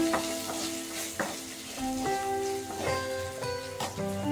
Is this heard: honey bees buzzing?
no